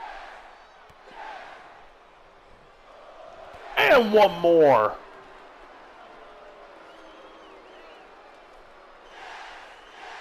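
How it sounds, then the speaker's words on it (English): Arena crowd noise in the wrestling video game WWE 2K, a steady murmur swelling into a loud burst of cheering around the middle while a commentator speaks over it. "Crowd cheering along with him."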